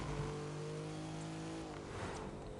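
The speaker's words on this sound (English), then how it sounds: "This car has a V6 in it, and you can't engine swap in this game, so it's a good sounding V6." A V6 car engine in the racing game The Crew 2 holds a steady, buzzing rev under light throttle, loud and close, easing slightly before picking up again.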